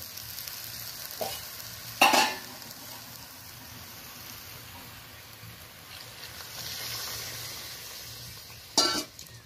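Frying tomato mixture for a Bengali tomato chutney hisses steadily in a pan, broken by a few sharp louder bursts as hot water is poured in, with no voices.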